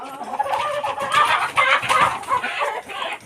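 Chickens on a poultry farm clucking and cackling in a dense, overlapping chorus, loud and close, with no talk over it.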